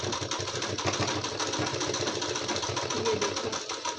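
A sewing machine stitches a lined kurti suit, running in a steady, rapid, continuous whir with rhythmic needle ticking, close and loud throughout with no talk.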